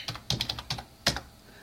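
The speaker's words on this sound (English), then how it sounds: "So I'm going to type in." Typing on a computer keyboard, a quick burst of close, light key clicks in small clusters, then a pause and a final pair of taps in a quiet room.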